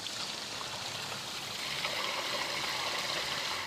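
Water from an RV's grey water tank gushes out at full pressure in a steady, rushing flow, close and continuous with no pauses.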